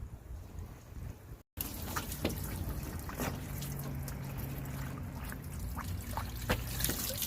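Water trickles and drips quietly as it fills a looped heater hose and radiator on a Toyota Tundra, a faint steady flow with scattered drops and a brief gap near the start.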